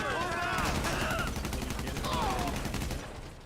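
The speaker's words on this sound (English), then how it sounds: "Just a sniper rifle." Video-game sniper rifle shots crack in a quick burst over a busy battlefield din, close and loud, with someone talking over them.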